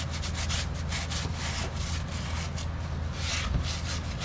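Steady, continuous scrubbing with a brushing, rasping texture of a drill-driven brush working a Chevy Trailblazer's interior trim, running unbroken with no talking.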